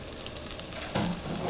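Marinated pork fries over high heat in a pan for Thai rad na, with a dense, even sizzle. A brief louder surge of crackling comes partway through the short clip.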